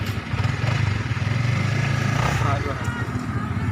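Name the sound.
passing motorcycle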